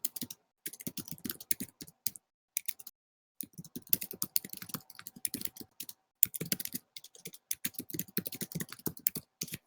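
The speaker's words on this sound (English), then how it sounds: "Furious typing." Fast typing rattles on a laptop keyboard in quick bursts of crisp clicks separated by short pauses, close and moderately quiet.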